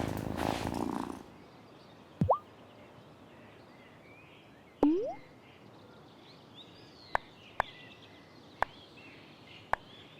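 A cat in the video game Wylde Flowers purrs softly while being petted, with a low continuous rumble under a few sharp chirps and scattered short clicks.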